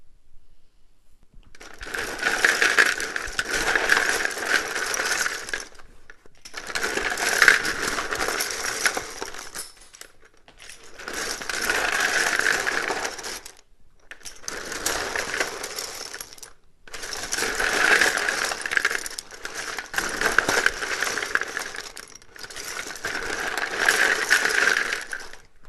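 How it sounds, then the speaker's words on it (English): A deck of tarot cards is shuffled loudly and close up in six separate bursts of riffling and clattering, each lasting a few seconds, with short quiet pauses between them. "it can be a little bit loud when I shuffle these."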